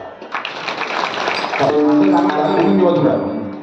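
A crowd at a weekly kirtan gathering in Takarkhed claps loudly, the applause building and holding near and dense, with voices mixed in.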